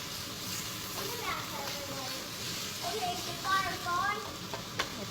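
Ground beef sizzles steadily in an overheated pan, a continuous hiss with occasional spatters, while a voice talks faintly in the background.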